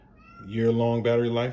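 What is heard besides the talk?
pet cat meowing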